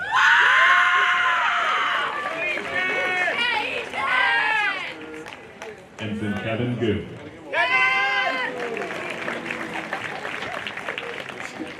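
At a Nuclear Power School graduation ceremony, a crowd shouts, screams and cheers loudly in bursts between names being read out over a speaker, with applause mixed in.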